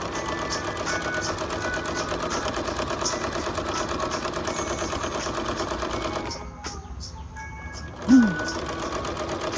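An industrial sewing machine stitches in a steady, fast mechanical whir, then drops out for about a second before a short thump and resumption.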